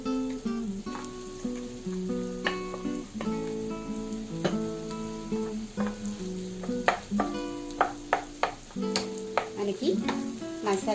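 Mashed boiled potatoes go into a sizzling pan of frying curry for a poori side dish, with a spoon scraping and stirring in uneven knocks over a constant close sizzle.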